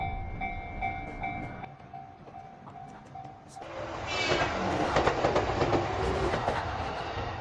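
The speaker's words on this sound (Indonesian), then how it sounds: "di seberang jalur rel kereta api yang sedang akan lewat" A train approaches on the railway line, faint at first, then a louder rolling rumble with rhythmic clickety-clack of wheels over rail joints builds and holds through the second half.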